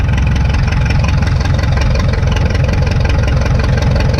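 A 1952 McCormick Super WD-6 tractor engine idles while warming up, a loud, steady, rough low-pitched chugging that runs unbroken and close.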